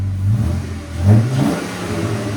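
A 2014 Jeep Wrangler 3.6L V6 with a Borla ProXS exhaust revs up twice, a deep throaty exhaust rising and falling, loud and close, with no voices.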